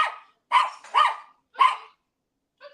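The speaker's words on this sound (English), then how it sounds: "he's barking at squirrels" Jonty the dog barks in four sharp, separated barks at close range, followed by a softer, shorter yip after a pause, with no talking.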